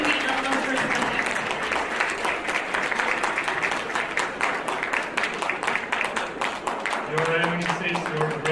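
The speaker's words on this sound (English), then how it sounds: "Round of applause" Audience applause at a farewell event in Los Angeles for an ambassador, a thick patter of many clapping hands; a voice talks faintly beneath it, and a few louder claps stand out near the end.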